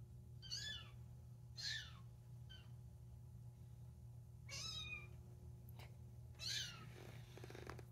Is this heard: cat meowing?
yes